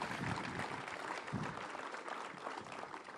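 A crowd applauds at an outdoor groundbreaking ceremony for an ocean tech hub at the Port of Los Angeles, with steady rapid clapping heard from a distance, a couple of louder swells, and a faint murmur of voices mixed in.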